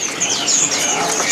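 Several small caged birds, including Java sparrows, chirp and tweet at a bird market stall, quick bright high calls overlapping closely in a busy, near chorus.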